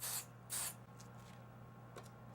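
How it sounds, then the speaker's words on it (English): Adhesive spray can misting glue onto fabric in two short, quiet hissing bursts, with faint handling noise and a steady low hum underneath. "spray the adhesive on."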